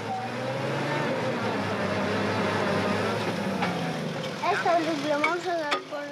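A truck's engine labors while stuck in deep mud on a Bolivian mountain road, giving a low, steady rumble that fades toward the end as voices rise over it.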